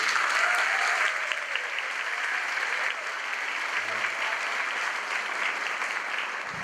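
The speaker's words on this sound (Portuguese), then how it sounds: "Grandes Carlos Papel, uma salva de palmas, por favor." A congress opening ceremony audience gives a composer a round of applause: broad, sustained clapping from a sizeable crowd, holding an even level from start to finish with no voices standing out.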